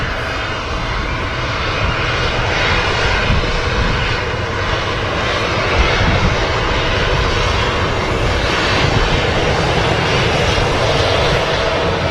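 An EasyJet jet airliner departs Manchester Airport, its engines giving a loud, steady, broadband roar that holds without a break for the whole stretch.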